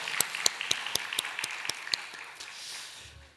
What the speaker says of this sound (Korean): 우리의 찬양을 받으신 하나님께 영광의 박수 올려드릴까요?